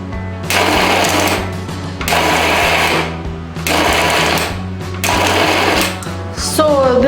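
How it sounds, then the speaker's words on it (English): A mixie grinder blends nuts for date and nut ladoos in four short loud whirring pulses separated by brief pauses, a harsh close motor roar with a rattling, grinding edge. "So now I am taking this nuts in the mixie grinder. So now I blend it into the mixture."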